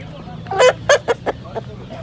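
A male turkey calls at a poultry market, giving a short run of about five clucking, gobbling bursts that fade from loud to softer over steady low crowd hum.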